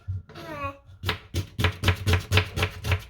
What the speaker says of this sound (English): So I'm just gonna cut the onion finely chopped